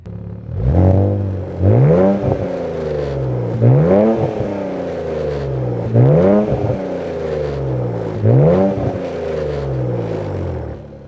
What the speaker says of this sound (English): Today I'm driving the Infiniti Q60 Red Sport, but this is tuned.